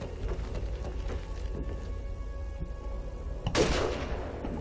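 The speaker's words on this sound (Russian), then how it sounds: "Зря выстрелил." A gunshot in the video game Call of Duty Modern Warfare 2, a single sharp crack late in the clip, standing out against a steady ambient rumble of rain-like game atmosphere.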